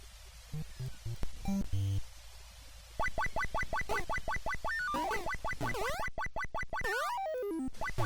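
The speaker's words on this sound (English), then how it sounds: "you'll see Donkey Kong Jr. makes this cute little monkey noise while he's climbing" Arcade Donkey Kong Jr. game audio: a run of rapid chirpy rising blips from the climbing monkey, loud and alone, repeated many times over several seconds with falling and zigzag electronic tones near the end.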